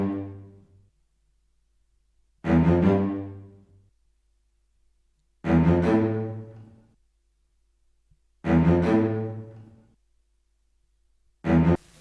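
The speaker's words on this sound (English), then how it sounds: "So I chose a cello from Sonatina Orchestra" A Sonatina Orchestra cello plays short, detached bass notes on the chord roots, four separate notes spaced a few seconds apart with silence between them and a fifth starting at the end.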